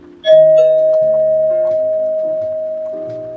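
A single bright electronic chime from a digital queue management system rings out and sustains with a long, slowly fading tone, clear and close with no talking.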